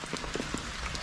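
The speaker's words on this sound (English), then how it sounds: "You'll be able to kind of hear the rain" Steady rain patters over a surface in Cheswick, St Thomas, Jamaica, a dense continuous hiss with scattered drop ticks, fairly close and even throughout.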